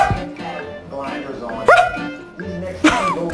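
A pet dog gives several short barks and yips close by, mixed with people talking over it.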